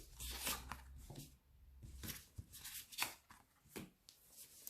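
Tarot cards are shuffled and pulled from the deck, giving quiet riffling and sliding card sounds with a few sharper snaps, close and soft with no talking.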